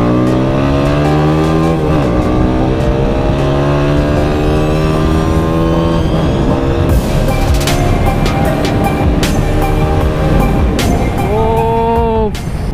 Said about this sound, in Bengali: ও এক্সজস্টের সাউন্ডে তো এলাকাবাসী তামাতামা হয়ে গেছে।